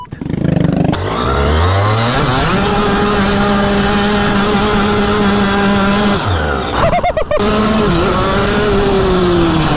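A go-kart engine revs loudly and continuously through turns, its pitch dropping and climbing with downshifts and acceleration, with a brief rough burst partway through.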